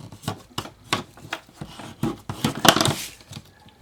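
Glued paper card flap being burnished by hand, a series of close, quick rubbing and scraping strokes in an uneven rhythm, fairly faint and without talk.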